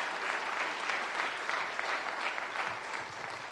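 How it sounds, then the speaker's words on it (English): Lecture hall audience applauding a group of panelists at a prize laureate event, an even, sustained burst of many hands clapping at moderate distance, with no voices over it. "Now you can clap if you want."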